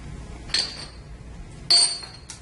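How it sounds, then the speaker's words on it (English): Metal C-washers, also called pac-mans, being handled on a rolling mill roll stand during a changeover, giving two distinct bright metallic clinks and a lighter tap at the end over a low background hum. "Slide this off, put your pac-man on there."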